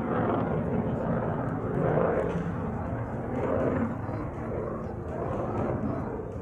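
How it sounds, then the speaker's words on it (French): Roaring jet engine noise from a Rafale fighter jet at the 2017 La Ferté-Alais air show, rumbling steadily, swelling slightly then easing, passing not far off. "Le Rafale, bien évidemment, c'est un avion de combat avant tout."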